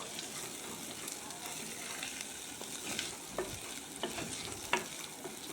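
Dry fish sizzling and frying in a clay pot, stirred by hand. A close, steady crackle and hiss runs throughout, with soft scraping stirs and a few sharper clicks against the pot.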